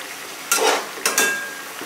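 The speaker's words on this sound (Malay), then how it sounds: "Dan kita kacau." Fish curry with bamboo shoots being stirred in a pot: two loud scraping, sizzling stirs close up, each fading into a hiss, with a faint third near the end.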